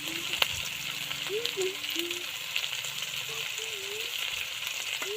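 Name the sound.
stirring and frying fish curry masala with turmeric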